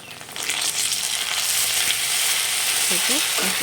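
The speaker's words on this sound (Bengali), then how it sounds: "আদা রসুন পেস্টটা দিয়ে মশলাটাকে ভালো করে কষিয়ে নিলাম।" Spiced masala with ginger-garlic paste, green chilli and chopped onion fries in a hot pan with a loud, steady, close sizzle that runs throughout, with a few faint utensil clinks near the end.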